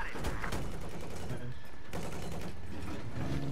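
First-person shooter game gunfire rattles in dense, rapid bursts, loud and continuous, with mechanical clatter mixed in and little break.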